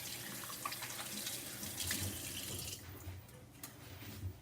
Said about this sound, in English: I'm going to wash my hands here.